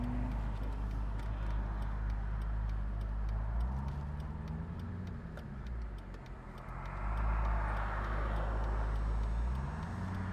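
A 2004 Chevrolet Corvette's engine idles and then pulls away on a test drive. A low, steady rumble briefly dips before rising again as the car accelerates through the gears, with no talking.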